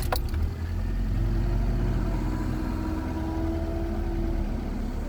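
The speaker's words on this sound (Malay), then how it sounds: "nanti kita cuba startkan kereta, tengok macam mana" A Proton Waja car with an automatic gearbox cranks and fires up with a brief clatter, then settles into a steady, moderately loud idle rumble.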